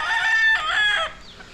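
A rooster crows loudly and close by, with one long call of rising and falling tones that fades into quieter clucking from a flock of chickens.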